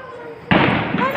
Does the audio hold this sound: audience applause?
no